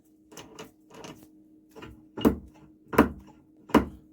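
A freed-up freewheeling hub on a tractor being turned by hand, giving a series of rhythmic ratcheting clicks and clunks, softer at first and growing louder and sharper, about six in a few seconds.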